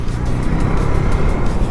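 A small single-cylinder motorcycle accelerates away briskly, its engine note loud and steady with a choppy, pulsing rumble throughout the short burst.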